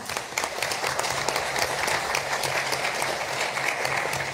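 An audience at a solar thermal energy conference applauds speaker Claire Barré, a dense, even wash of many hands clapping, steady and sustained throughout, heard from within the room.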